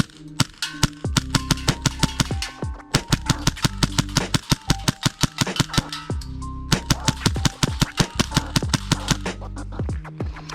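A custom Hi-Capa airsoft pistol fires rapidly through a magazine. Sharp, close, loud cracks come in fast strings with a brief pause midway, and there is no speech.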